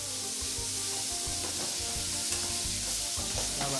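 Food frying in a pan during a cooking contest, a steady close sizzle with stirring scrapes and soft clatter running throughout.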